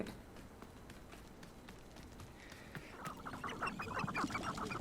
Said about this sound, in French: Bon, il y a des poules partout.